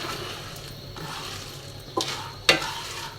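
Popcorn kernels heat in oil in a pan, giving a low, faint sizzle with a couple of sharp pops or clinks standing out near the end.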